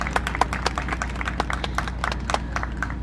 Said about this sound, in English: give everybody that's worked and helped with the show today and yesterday a big round of applause